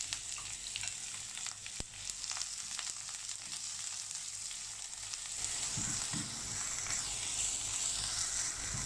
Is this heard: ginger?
yes